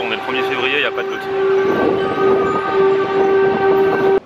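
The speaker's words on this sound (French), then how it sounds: "ça me stresse à chaque fois la sirène là" Monthly first-Wednesday public warning siren in France, a loud sustained steady tone that holds for several seconds after a brief warbling start, with a voice briefly heard underneath.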